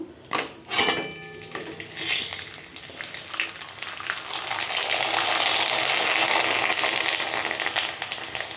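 Homemade papad made from rice starch frying in hot oil, first a few clattering knocks of a utensil against the pan, then a loud, close, rising hiss of bubbling oil that holds steady to the end.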